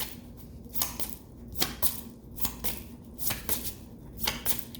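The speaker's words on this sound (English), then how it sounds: "Bear with me through the shuffle." A deck of tarot cards is shuffled by hand, giving a run of quick riffling and slapping bursts at an uneven rhythm, close and clear.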